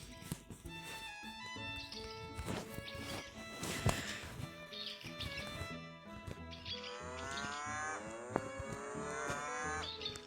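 Cows in the video game Deeeeer Simulator moo several times in long, drawn-out calls at moderate loudness, with birds chirping steadily in the background and a voice briefly heard.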